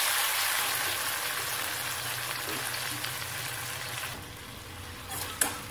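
Tomatoes sizzle and crackle steadily in a hot pan while being sautéed for a kootu, a continuous frying hiss with occasional stirring clinks near the end.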